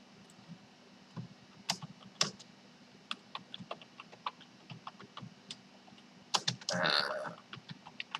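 Typing a headline on a computer keyboard while editing a WordPress landing page, scattered close key clicks in an irregular rhythm over faint room noise, ending in a brief louder rustle.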